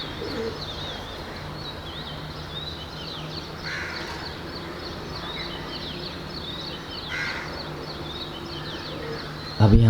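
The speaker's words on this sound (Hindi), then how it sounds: "आप थोड़ा सा अगर ध्यान दें तो चहचहाते परिंदों की आवाज़ें" Birds calling at sunrise, with caw-like calls and cooing among the chirps, heard over a steady outdoor background with no talk.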